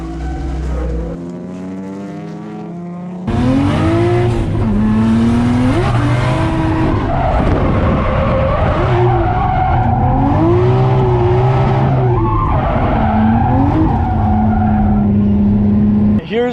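A BMW E30 drifting, its engine revving hard with rising and falling pitch while the tires squeal in long wavering bursts, loud and close after a quieter start.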